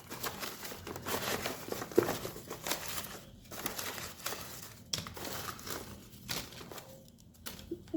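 Tarot cards being drawn and shuffled by hand, a run of close, papery crinkles and soft slides in irregular bursts, with short quiet gaps between handlings.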